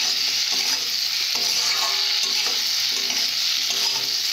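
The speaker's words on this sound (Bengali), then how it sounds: "এরপর কিছুক্ষণ জন্য কষে নেব।" Puti fish being sautéed in a pan, with a loud, steady hiss of sizzling oil and rhythmic scraping as it is stirred, close up.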